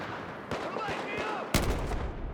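A sharp gunshot lands in the middle of an ongoing firefight in Battlefield on the Operation Firestorm map, with scattered shots and booms before it, all close and loud.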